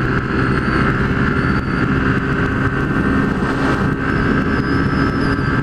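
A car fitted with a swapped aftermarket exhaust runs close by with a loud, steady engine drone and rumble that holds even for several seconds, with no clear rise or fade of a pass-by.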